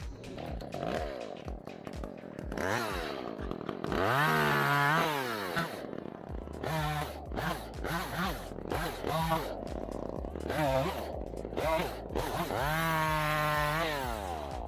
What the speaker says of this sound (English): heck with that crap, pull up the chainsaw.